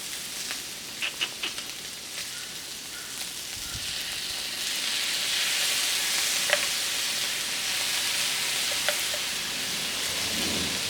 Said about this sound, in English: We're gonna go ahead and add the sauce.